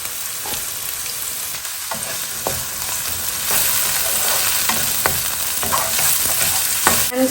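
Spring onions sizzling in hot oil over high heat, a steady close crackle and hiss with occasional stirring clicks and scrapes in the pan.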